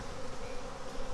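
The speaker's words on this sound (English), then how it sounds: "There's a lot of bees right here, guys" Many honey bees from a healthy, defensive hive buzzing close by in a steady dense drone, brief and unbroken, no talking.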